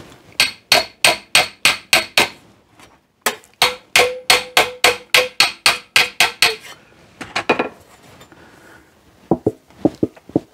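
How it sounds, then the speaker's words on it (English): A hammer pounds a piece of sheet metal to buckle it into oil canning, striking in fast, even bursts of ringing metallic blows with short pauses between runs and a few scattered hits at the end. "it took me a couple of minutes just to hammer on there"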